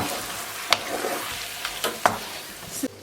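Leek dish being stirred in a pan with the heat just switched off, giving a soft sizzle under a few distinct spoon scrapes and taps against the pan, close and without talk.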